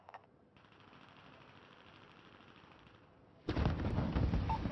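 Gunfire in Call of Duty: Warzone, a quiet stretch of low mechanical game ambience and then a sudden loud, dense burst of shooting that continues to the end.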